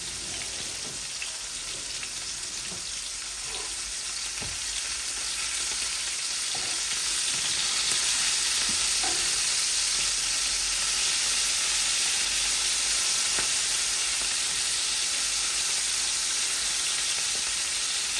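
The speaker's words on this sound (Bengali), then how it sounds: "এখন আমি মাছগুলা উল্টাই নেই" Rohu and tilapia fish frying with radish in a pan: a dense, continuous sizzle close up, with faint clicks and shuffles as the pieces are flipped.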